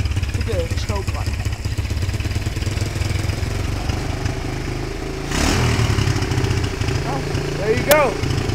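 Goped GSR40 scooter or Katerra Motorsports quad engine running in a garage, a steady buzzing idle that picks up with revs midway, with people talking over it.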